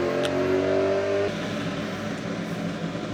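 A Subaru engine idles with a rough, uneven burble from the exhaust that sounds broken, steady and fairly loud, the tone dropping slightly partway through.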